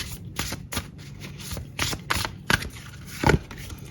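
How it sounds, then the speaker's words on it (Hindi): Tarot cards are shuffled in quick, crisp riffles and slaps, a run of soft rapid strokes close by with no talking. "एक कार्ड मैं और शफल करके निकालूंगी।"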